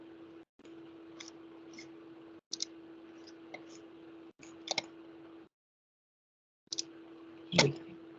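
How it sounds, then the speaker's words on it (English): Sharp, quiet computer mouse button clicks sound at irregular intervals over a faint steady hum, with a few short silent gaps. "It's because I was clicking the wrong button"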